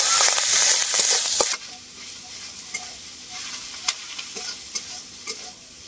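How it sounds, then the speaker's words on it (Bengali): Ginger garlic paste frying with onions for egg curry starts with a loud hiss and stirring scrapes, then settles into a quieter crackling sizzle with occasional utensil taps, close and without speech. "রসুন আদা একসাথে খুব ভালো করে ভেজে নেব"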